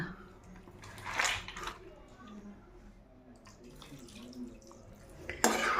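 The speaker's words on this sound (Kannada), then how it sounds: "ಮತ್ತೆ ಒಂದು ಲೋಟ ನೀರು ಹಾಕ್ತೀನಿ" A glass of water poured into a pot of wild mango peels, with splashing bursts and trickles at close range while a person talks.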